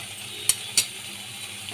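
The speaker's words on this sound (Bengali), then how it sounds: "ভালো করে সয়াবিনটা এর মধ্যে আমি মিশিয়ে নিলাম" Soybeans being stirred into a frying pan with a paste and sugar, giving a steady soft sizzle under three sharp scraping taps of the utensil against the pan, close by and with no talk.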